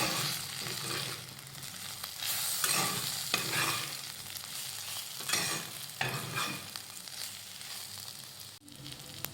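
Eggplant being stirred in a hot pan as garam masala and coriander powder go in, a steady scraping and sizzling with spoon strokes repeating throughout, close and alone without any voices.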